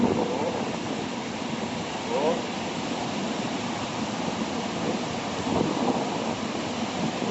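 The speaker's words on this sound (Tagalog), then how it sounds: "May pag-abot sa Bagyo." Big storm waves crash and roar under strong wind as a typhoon nears the coast near Misamis Oriental, forming a loud, continuous wash of noise with a few heavier surges.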